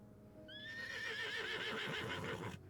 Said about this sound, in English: Thank you, horse stock sound effect.